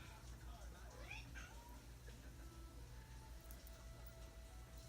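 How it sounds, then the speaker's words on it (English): A cat meows several times in the background, rising and falling cries over a low steady hum with faint talking underneath. "I'm sorry if you can hear my cat in the background"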